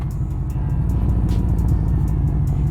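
A Harley-Davidson motorcycle engine fitted with a new clutch basket and clutch runs steadily close by, giving a loud, continuous throbbing rumble with faint rhythmic ticking on top.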